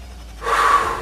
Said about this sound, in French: J'inspire en montant.